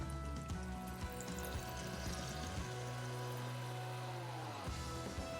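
Woodford Reserve bourbon, 8 ounces, is poured into a pan while cooking Bolognese, giving a steady gurgling pour that thins toward the end, with no talking.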